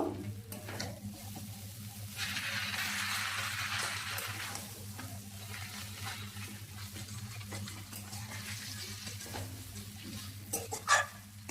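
Turmeric powder being stirred into egg chowmein ingredients in a hot pan, with a steady sizzle and soft scraping of the utensil throughout, plus a brief louder clink near the end.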